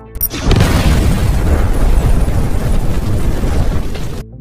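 A loud explosion erupts into a long, roaring boom that rumbles heavily for several seconds before cutting off abruptly.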